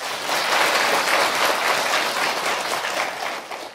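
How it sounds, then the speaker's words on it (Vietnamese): An audience at a Buddhist dharma talk breaks into sustained applause, a dense burst of clapping that holds steady for several seconds before tapering slightly, with no talking. "Cho tràng pháo tay."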